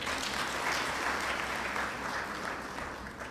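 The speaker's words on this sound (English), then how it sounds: "let's give them a round up of applause once again" A graduation audience claps for the graduates at a Zambian ceremony, a broad, sustained round of applause that stays full for a few seconds and then eases slightly toward the end.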